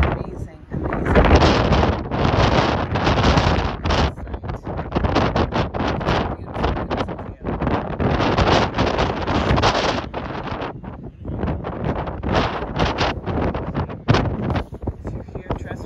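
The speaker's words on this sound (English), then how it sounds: "it's very windy and overcast here. Very windy." Strong gusting wind on the exposed, overcast Cliffs of Moher in Ireland, buffeting the microphone in loud, rough bursts throughout with only brief lulls, and a voice heard amid the roar.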